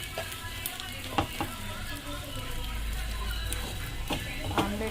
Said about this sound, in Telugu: ఇలా వేసిన ఆమ్లెట్ని బాగా కాలాక ఒకసారి తిప్పి వేసుకోవాలి